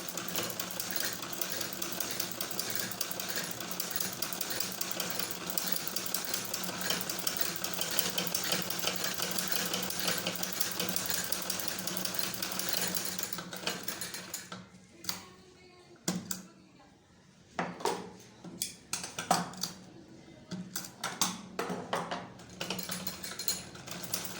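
Sewing machine stitching a baby collar for a ladies' frock a short distance from the buckram edge, running steadily for about fifteen seconds before breaking into short stop-start bursts.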